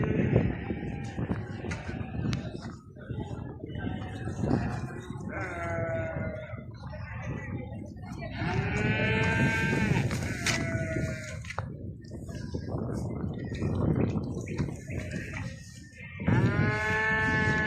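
Sheep and goats at a crowded livestock bazaar bleat repeatedly, several wavering calls close by over a busy background hum, with cattle lowing and people talking now and then.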